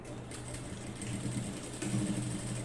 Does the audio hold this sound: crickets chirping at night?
no